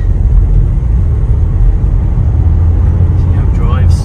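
Vauxhall Vivaro 1.6 CDTI 120 Sportive van from 2019 driving up a road, a steady low engine and road rumble with tyre noise continuing throughout at close range.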